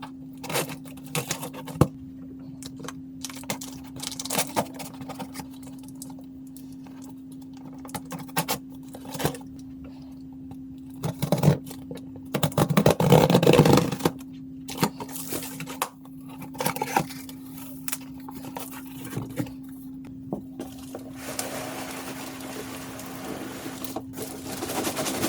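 Cardboard shipping box holding an Ask Echo SLC-130 golf cart bag being opened, with scattered taps, scrapes and rustles over a steady hum, and a louder burst of tearing and crinkling near the middle; no talking.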